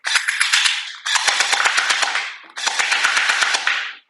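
A Glock 18 gel ball blaster fires on full auto in three rapid bursts of sharp snapping shots, each burst lasting about a second and a half, loud and close, with short pauses between.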